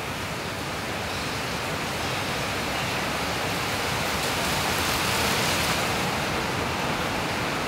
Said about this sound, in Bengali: ও শিয়াব্বাই বৃষ্টি আইছে